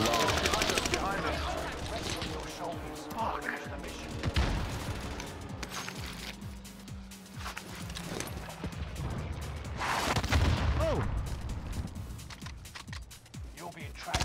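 Bursts of automatic gunfire and single shots in Call of Duty Warzone on the Caldera map, mixed with game effects, while players talk over the action throughout.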